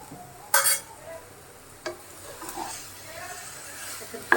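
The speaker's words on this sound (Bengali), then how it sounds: "সন্দেশ ঝোলকের সাথে সেমাইটা ভালো করে ভাজতে হবে যতক্ষণ পর্যন্ত আঠা হয়ে না আসে" Vermicelli being fried and stirred in a pan for borfi gives a soft background sizzle broken by a few sharp scrapes and clinks of the spoon against the pan.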